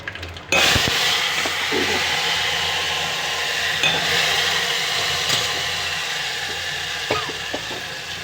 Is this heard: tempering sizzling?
yes